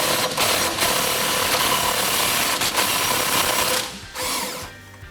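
A 21mm impact gun runs out a bolt on a RAM 1500 during a front leveling kit install, giving a loud, sustained mechanical whir for about four seconds before dropping off, followed by a brief final burst.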